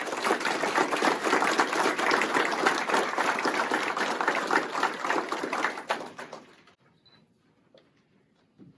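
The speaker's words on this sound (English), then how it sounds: "A round of applause for them." A crowd at a sheriff's department awards ceremony claps in a sustained, full round of applause for about six seconds, then the clapping thins out quickly and fades to near silence.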